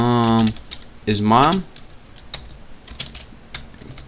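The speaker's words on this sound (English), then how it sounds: "Come on, keyboard." Fast clicking keystrokes on a computer keyboard fill the space between a man's words, which open the passage over the typing before it settles into quiet tapping.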